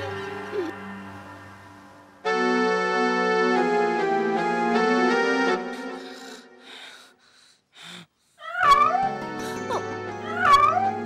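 A woman imitates a cat with wailing, meow-like cries that rise and fall near the end, after a stretch of held tonal sounds and some breathy snorts. The cries are fairly loud and close.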